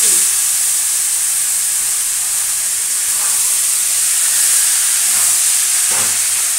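Cut, washed bottle gourd pieces drop into a hot pan already sputtering with chili tempering, setting off a loud, steady broadband sizzle that hisses continuously throughout with faint clatters near the end.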